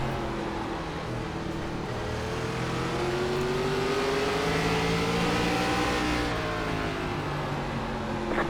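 An ARCA race car engine in the iRacing video game, racing at Langley, drones steadily at moderate volume, its pitch climbing and easing as the car laps, with no talk.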